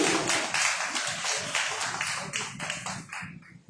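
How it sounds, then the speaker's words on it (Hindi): Audience at a teachers' award ceremony claps in a dense burst of applause that holds steady, then thins and fades out near the end. "जोरदार ताली बजनी चाहिए"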